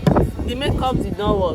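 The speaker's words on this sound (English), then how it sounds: "the wind from this beach is so loud" Strong beach wind buffets the microphone with a steady low rumble and roar, close and loud, under someone speaking briefly.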